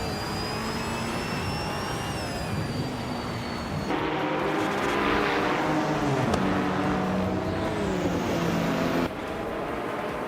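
Race cars in a racing video game, led by a 2018 BR Engineering BR1 LMP1 prototype, at the Autodromo Oscar Juan Galvez, with loud, continuous engine whine rising and shifting in pitch as several cars run together.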